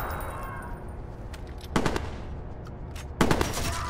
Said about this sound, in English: They're using shotgun from this distance.